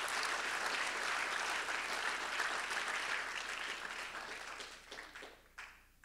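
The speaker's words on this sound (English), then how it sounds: "So one round of big applause to all these sponsors." A yoga closing ceremony audience claps for sponsors in a sustained, full round of applause that stays strong for several seconds and then thins out into scattered final claps.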